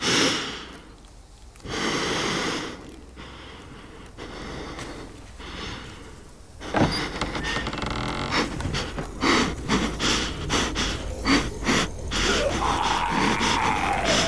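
A character in The Walking Dead: The Final Season video game breathes in heavy, ragged pants and gasps, close and alone at first, then continuing under denser game background noise.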